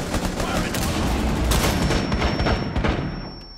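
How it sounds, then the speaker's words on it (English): Dense, continuous gunfire in the video game Rainbow Six Siege fills the whole stretch, rapid shots blending into a steady roar, with voices faintly underneath. "Oh, I hear gunfire."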